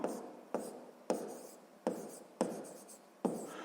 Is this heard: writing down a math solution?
yes